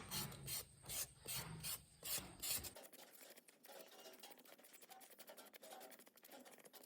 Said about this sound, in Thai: เราจะใช้ช้อนขูดเอาเปลือกของเขาออกนะคะ